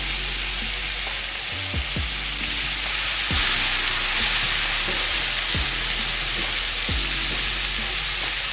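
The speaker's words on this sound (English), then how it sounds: "Place your diced tomatoes and your roasted red peppers into the pan." Diced tomatoes and roasted red peppers sauté in butter with garlic, giving a steady close sizzle as a spoon scrapes the pan at irregular intervals, with no talking.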